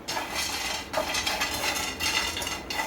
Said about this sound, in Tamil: நிலக்கடலை பருப்பையும் நம்ம வறுத்துடுவோம். ஒரு 2-3 நிமிஷம் வறுத்தோம்னா போதும் உங்களுக்கு.